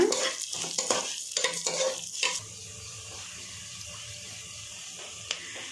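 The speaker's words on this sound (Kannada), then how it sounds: "ಇದು ಹೆಸರುಬೇಳೆ ಗಮ್ಮನ್ನೋವರೆಗೂ ಫ್ರೈ ಆಗಿದೆ" A spoon scrapes and stirs moong dal and ginger in a pan for a couple of seconds over a soft sizzle, then low steady frying continues alone.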